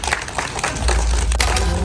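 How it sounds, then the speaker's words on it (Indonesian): Kindergarten children at a police visit clap together in a busy, noisy burst of many small hands, with a low rumble underneath and no clear speech. "Tepuk tangan semuanya dulu."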